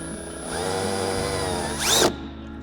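A power drill with a 1/8 inch bit whirs steadily for about a second and a half, then rises in pitch and load with a brief strained burst as it bores a mudflap mounting hole on a 2018+ Subaru Crosstrek, stopping abruptly.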